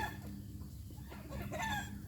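Chickens cluck in short, scattered calls close by on a rural property, with steady background hum beneath them.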